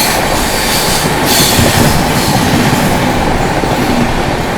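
Loud continuous rumble of the 22222 CR Rajdhani Express running at speed, heard from inside the train while it overtakes the Gorakhpur LTT Express on a parallel track, with steady wheel roar and faint squealing throughout.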